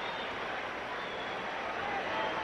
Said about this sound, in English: Just listen to the noise of this crowd